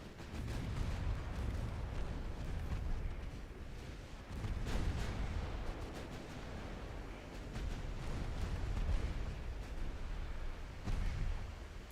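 Warship guns firing in the naval game Ultimate Admiral Dreadnoughts: a continuous, heavy rumble of booming salvos with repeated broadband bursts, dense and distant-sounding, with no voices.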